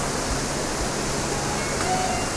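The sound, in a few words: waterfall with water falling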